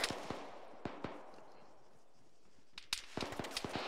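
Crisp gunshots crack during a military field training exercise, a few isolated shots early, then a lull, then a quicker cluster of sharp reports, loud and close with brief echoes.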